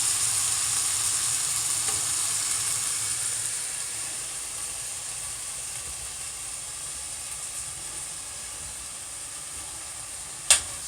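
Seasoned chicken pieces sizzle and fry in a pan for Sunday stewed chicken, a steady close hiss that slowly softens, with one sharp clink near the end.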